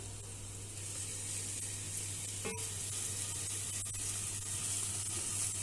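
Shallots sauté in a pan with a quiet, steady sizzle and hiss beneath a constant low hum, broken by one brief sharp clink of a utensil.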